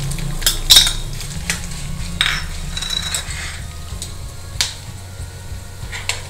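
Curry leaves and dried manathakkali berries (vathal) fry in a pan alongside lumps of asafoetida, giving soft crackles and a few sharp metallic clinks of a utensil against the pan over a low steady hum.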